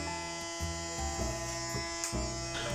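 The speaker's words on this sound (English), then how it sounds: "look carefully at how I pull the clipper off the head when I reach to the top" An electric hair clipper buzzes steadily as it cuts hair during a self-haircut at home, a loud close hum with brief dips and shifts in pitch as it moves over and lifts off the head.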